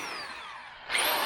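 An electric drill powered from a portable power supply in a 1969 Chevy van whirs steadily up close, then rises to a louder, brighter pitch near the end of a short burst.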